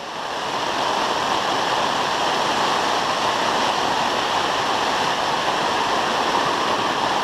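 Water rushing through drain holes cut in a haunted house attraction's roof, a loud, steady, hissing roar that runs unbroken from start to finish.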